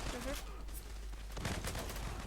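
A customized M4A1 rifle in a video game fires in quick, dense bursts clustered near the end of a short stretch of game noise, fairly faint, with a voice present underneath.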